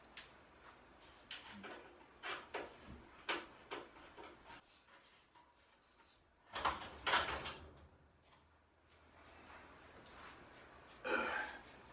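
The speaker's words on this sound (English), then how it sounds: "So first thing you want to do is remove the doors and then remove the frames right here." Sliding glass shower doors and their frames are taken out, producing a run of knocks and scraping thuds, then a pause, then a louder clattering burst and one more bang near the end.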